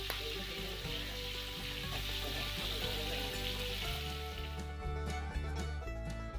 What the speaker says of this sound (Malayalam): പിന്നെ ഇത് അമ്മച്ചിയുടെ ചിക്കനൊക്കെ പൊരിച്ചെടുക്കുന്നുണ്ട്.